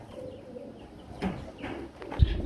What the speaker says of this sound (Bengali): একজোড়া শাড়ি কবুতর দেখতে পাচ্ছি